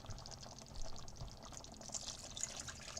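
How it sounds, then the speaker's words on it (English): Water pours into a pot of simmering beef Burgundy, a soft continuous splashing stream heard alone at low volume. "I'm going to add a little water so that it simmers a little bit better."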